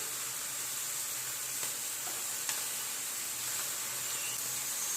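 Mixed vegetables sizzle steadily in a pan after turmeric goes in, a continuous close, even hiss of frying with a few faint stirring clicks and no talk.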